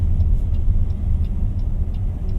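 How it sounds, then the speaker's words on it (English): A 2023 Toyota Zenix 2.0 hybrid's engine starts up from EV mode, giving a steady low rumble heard from inside the cabin and carrying evenly through the short stretch with no talking. "now the engine just kicked in"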